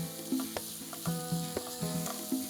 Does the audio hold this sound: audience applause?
no